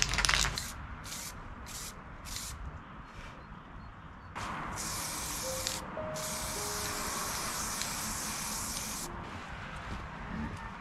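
Spray primer misted onto 3D printed parts for a Han Solo DL-44 blaster replica outdoors on a cold day: a run of short close hissing bursts, then one long steady spray.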